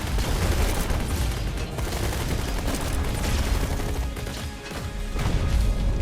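Units opening fire in the real-time strategy game Tempest Rising: dense, continuous gunfire and crashing impacts fill the whole stretch, loud and close, with a brief dip before the shooting swells again.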